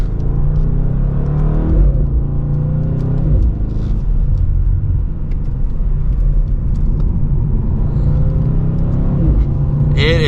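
A 2023 BMW M850i xDrive coupe accelerates on the road, heard from inside as a loud, rising engine drone with gear changes where the pitch drops and climbs again, over steady road rumble.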